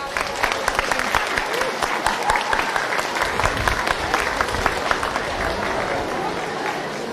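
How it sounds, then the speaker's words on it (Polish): Crowd applause at an outdoor town fair in Opatów as the mayor is invited onto the stage, loud continuous clapping with crisp individual claps and some crowd murmur beneath. "Wielkie brawa."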